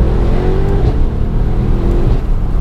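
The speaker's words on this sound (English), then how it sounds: "that's the standard AMG exhaust that comes on the E63" A 2018 Mercedes-AMG E63 in Sport Plus mode with the standard AMG exhaust, a loud, deep, steady engine drone heard from inside while driving, with no talk.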